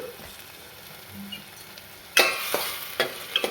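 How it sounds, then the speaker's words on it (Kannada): An egg roll frying in oil, a quiet kitchen stretch before a sudden bright sizzle starts and continues with a few crackling pops. "ಈಗ ಇದನ್ನ 2 ಸೆಕೆಂಡ್ಸ್ ಫ್ರೈ ಮಾಡೋಣ."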